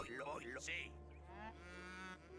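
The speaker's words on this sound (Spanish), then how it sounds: "ya con esto fuera, rescataremos esta vaca" In the video game Age of Empires 3, a cow lets out a single drawn-out moo that sits close and clear at a low level.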